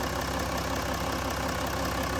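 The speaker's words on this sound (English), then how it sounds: "And this beautiful smooth engine." A Jaguar F-Pace 3.0 V6 diesel engine idles steadily up close, a low even rumble with a faint rhythmic knock and no voices.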